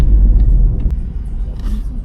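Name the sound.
car driving on a rough road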